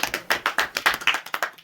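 A congregation in a church sermon applauds, giving a short burst of fairly close, sharp claps in a quick, uneven rhythm that fades toward the end, with no voices over it.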